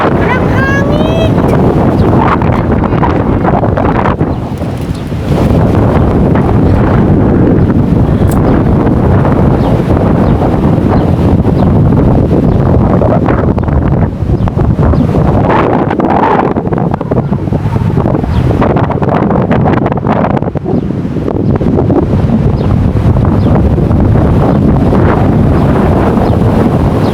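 Wind gusting across a microphone in a park near a stairway, a loud, steady rumble that rises and falls throughout.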